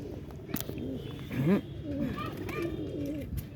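A pigeon, kept as a long-flying breed, coos in several soft throaty rolls, close by, with faint background voices.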